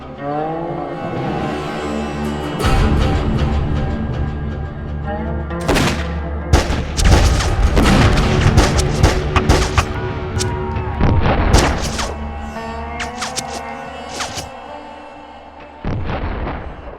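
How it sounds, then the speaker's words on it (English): Gunfire at a standoff between armed strikers with rifles and Pinkerton agents in Homestead: a dense series of loud booming shots and cracks, some overlapping, layered over a sustained low rumbling background. "Then, a gunshot rang out."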